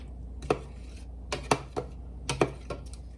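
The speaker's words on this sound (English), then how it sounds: "give that a stir until that's well combined" A utensil knocks against a mixing bowl while apple cider donut cake batter is stirred, several sharp clinks and taps coming in uneven bursts over a quiet background.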